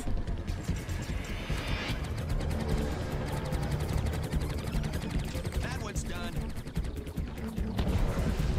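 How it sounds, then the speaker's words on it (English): Missile barrage fired at an enemy ship in the space combat game Starlink, a loud continuous stream of rapid launches and explosions with whooshing sweeps over game engine rumble. "So let's bombard this guy with some missiles."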